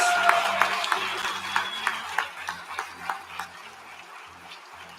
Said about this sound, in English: So one more round of applause for our TAC